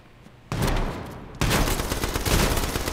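Automatic gunfire bursts in the H1Z1 video game: a short volley, then a loud sustained spray of rapid shots, close and harsh with no talk over it.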